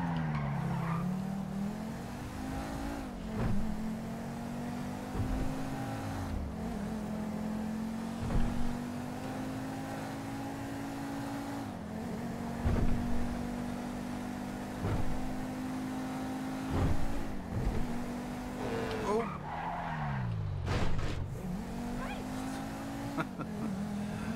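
A powerful car with loose steering in GTA V drives with its engine droning steadily, rising and falling in pitch as it revs, punctuated by occasional thuds and a sharp drop near the end.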